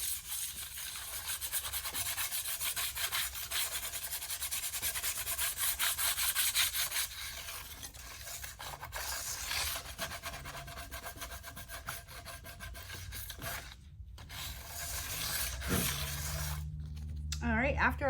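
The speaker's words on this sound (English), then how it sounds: "I'm just gonna give it a light sand with 120 grit sandpaper, scuff it up a little bit" Light hand sanding with 120 grit sandpaper, scuffing a countertop surface before an epoxy faux granite coating, steady back-and-forth rasping rubs close by that break off briefly near the end.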